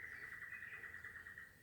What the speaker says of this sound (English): Beautiful bird calls, there's some orchids, lovely lichens, mosses, vines.